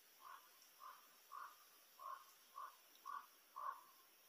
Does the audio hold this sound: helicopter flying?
no